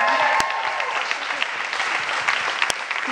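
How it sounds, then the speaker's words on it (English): A bookstore reading audience claps in a steady burst of applause, moderately loud and close, with scattered claps throughout. "let's give another round of applause for our amazing authors and performers tonight"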